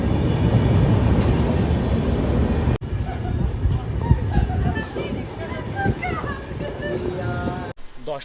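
A passenger train pulling into Azimganj station in West Bengal, a loud rumbling roll with squealing brake tones and clanks, people talking over it nearby.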